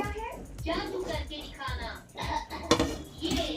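Fish curry of rohu with cauliflower being stirred in a pan, light metallic scrapes and clinks of a spoon against the pan under continuous close speech, with a voice also present.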